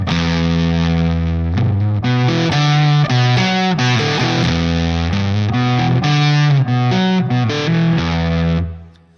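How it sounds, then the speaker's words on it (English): Electric guitar riffs played low on the neck through the Line 6 Pod HD500 Plexi Lead 100 amp model, a Marshall Super Lead emulation, with a low cut engaged. The tone is loud and distorted, with steady chugging notes alone, fading at the end. "let me play some riffs down low so you can hear it with the low cut engaged"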